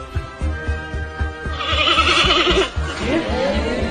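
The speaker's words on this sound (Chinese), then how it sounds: "各位注意听，熊猫爸爸莉莉在求偶时的叫声。" A male giant panda's mating call, a wavering sheep-like bleat, rises from rhythmic pulsing grunts into a louder, drawn-out bleating cry, close and strong.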